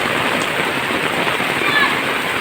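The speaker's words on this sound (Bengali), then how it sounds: "অনেকদিন পরে এরকম বৃষ্টি দেখলাম" Heavy rain pours in a loud, constant wash of hiss on a village day, with a voice faintly present beneath the downpour.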